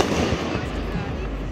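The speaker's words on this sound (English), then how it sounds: "More fireworks." Fireworks at a Fourth of July show keep up a dense, continuous crackle and rumble with no distinct single bang, steady and fairly loud throughout.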